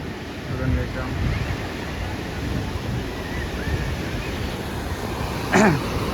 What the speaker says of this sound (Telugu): ఎంత స్పీడ్లో వస్తున్నాయి చూడు వాటర్ అయితే. చాలా స్పీడ్లో వచ్చేస్తున్నాయి నీళ్ళు. సౌండ్ వినండి ఒకసారి.